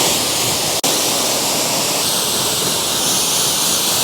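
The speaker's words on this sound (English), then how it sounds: "obviously, is we gotta rinse it off." Water sprays steadily over a Mercedes GTC during a detailing rinse, a loud, continuous hiss close by with one brief break near the start.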